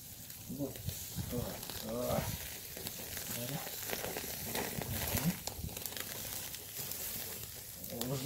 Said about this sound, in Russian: жарим свинину на кости